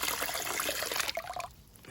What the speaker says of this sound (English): And I'm going to pour some of this acid in here.